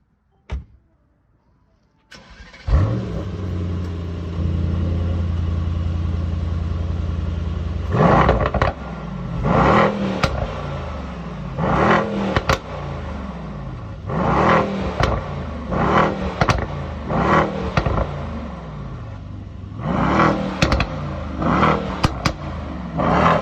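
A 2017 Mercedes-AMG E63 S engine without a particulate filter starts with a sharp crack, settles into a deep idle, then is revved repeatedly in loud, rhythmic bursts close by.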